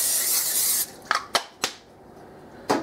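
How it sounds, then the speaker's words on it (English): Cooking spray hisses steadily from a can into a crock pot for just under a second, then several sharp clicks and knocks follow as the can and pot are handled. "I'm gonna go ahead and spray this with some cooking spray."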